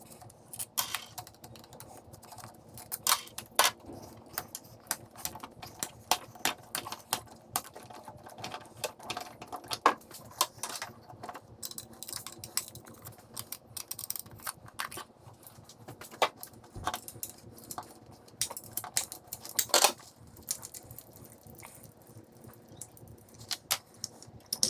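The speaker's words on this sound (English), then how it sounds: "we can pull the distributor" Small mechanical clicks, taps and rattles of wrench and parts work on a car engine as the distributor is unbolted and pulled for Holley Sniper EFI timing, set at 15 degrees before top dead center; close, irregular, no talking.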